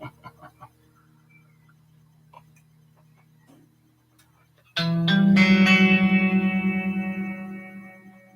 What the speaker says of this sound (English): Man, I love this sound.